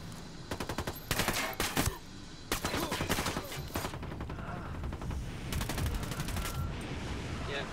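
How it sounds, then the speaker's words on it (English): Enemy gunfire in the video game Ghost Recon Wildlands: loud, repeated bursts of rapid automatic shots, clustered in volleys and separated by short lulls, over steady battlefield ambience. "He is still shooting at me."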